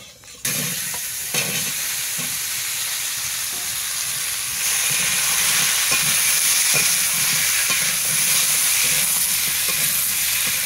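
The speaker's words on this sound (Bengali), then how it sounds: "এবার এই তেলের মধ্যে আমি এই পেঁপে আর আলুগুলো, কেটে ধুয়ে রাখা আলুগুলো আমি ভেজে নেব।" Cut papaya and potatoes hit hot oil in a home kitchen, bursting into a loud, steady sizzle that swells further partway through, with occasional stirring knocks and no talk.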